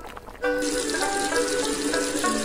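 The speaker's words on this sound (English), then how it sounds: "the noodles will be quickly rinsed with water." Running water rinsing cooked buckwheat noodles at a Xi'an street food stall, a loud steady hissing splash that starts abruptly and continues under a faint background tone.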